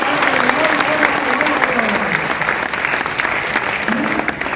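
An audience at a Hindi poetry recital breaks into loud, sustained applause, a dense steady wash of clapping with a voice speaking over it.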